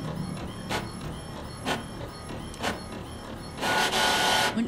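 A printer in The Mortuary Assistant runs with repeated mechanical whirs and clicks at a regular pace, ending in a louder sustained burst of motor noise, close and prominent.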